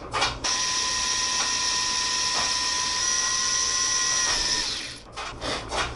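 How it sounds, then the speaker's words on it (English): A power drill with a 1/16-inch bit bores a bleed hole through a dimple on the fork of a 1980 Kawasaki KZ705 LTD café racer. A steady high whine holds for about five seconds between short bursts of the motor. "So we'll drill out that 4th dimple and then continue on to the next one."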